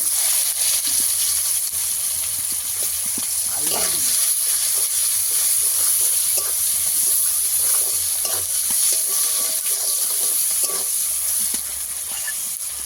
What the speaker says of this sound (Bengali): পাঁচফোড়ন দিয়ে দেব, দুটো তেজপাতাও দিয়ে দেব, কুচানো পেঁয়াজ দিয়ে দেব